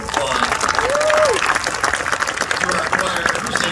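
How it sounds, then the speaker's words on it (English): Steady applause from a large crowd at a high school graduation ceremony, dense clapping throughout with a voice calling out briefly over it. "another round of applause."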